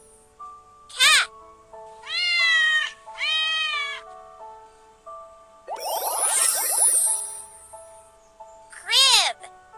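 A synthetic cat meow rings out among short bright game sound effects and a soft musical backdrop, with several chirpy electronic tones in between.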